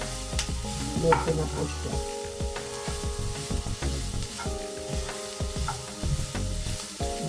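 Onions fry and are stirred in a pan, with steady sizzling and repeated scraping and clinking of a utensil against the pan, close up, while a voice speaks briefly.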